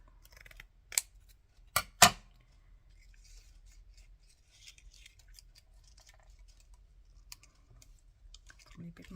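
Scissors cut through card during cardmaking, three sharp close snips in the first two seconds, then quiet rustling and light handling sounds.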